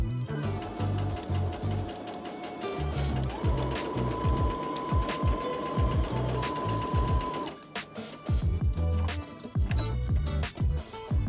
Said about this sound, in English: Sew the armhole opening with a 1 cm or 3/8 of an inch seam